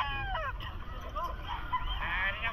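Roosters and other fowl crow and cluck faintly in the background of a busy pet market in Calumpit, with a steady crowd murmur underneath.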